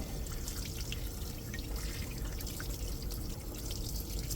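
Running water rinses supports off a part printed on a Stratasys J5 3D printer, a steady close hiss and trickle with faint drips, no talk.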